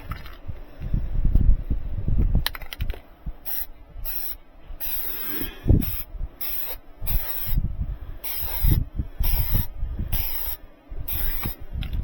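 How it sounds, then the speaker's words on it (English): Spray glue is applied to fallen insulation during a thermostat wire installation, heard as repeated short hissing bursts with clicks and rattles between them, close by and fairly loud. "One thing we can do is to put some spray glue on that."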